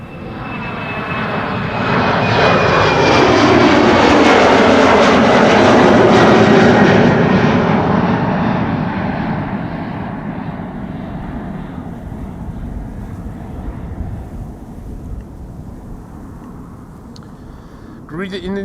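A jet airliner departs Amsterdam Schiphol Airport, its engine roar swelling to a loud, broad rumble with a whining tone, then slowly fading into the distance while a voice talks over it.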